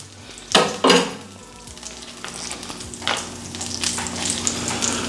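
A beef burger patty lands on a hot surface with a couple of sharp bursts, then sizzles steadily and grows louder, with a few scrapes and no speech.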